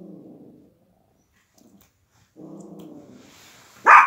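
Nearby dogs growl low in two separate rumbling stretches with a silent gap between, then one dog lets out a single sharp, loud bark at the end.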